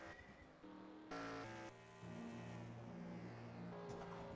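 Simulated race car engines in the NR2003 racing game at New Hampshire, a layered buzzing drone of several cars that rises and shifts pitch as they pass, fairly quiet overall.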